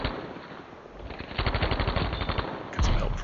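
An M1928 Tommy Gun fires in a video game, delivering rapid bursts of close, loud automatic fire that swell midway and end in a heavier final burst.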